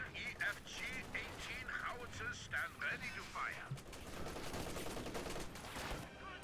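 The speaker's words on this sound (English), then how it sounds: "So, MG just lighting them up." Machine gun fire crackles through a World War II battle in the video game Company of Heroes 2, with rapid rattling bursts and distant booms mixed into the battle din. Someone talks over the shooting.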